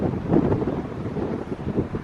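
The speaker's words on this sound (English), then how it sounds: "it's extremely windy, so yeah, you gotta speak right into the microphone" Strong gusts batter a microphone outdoors in Vilnius, giving a close, loud, uneven low rumble and buffeting with no other clear sound.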